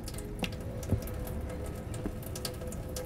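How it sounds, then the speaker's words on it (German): Water dripping inside a house in the video game Summer of '58, a few faint, widely spaced drops over a low, steady background hum. "Dass hier irgendwas tropft."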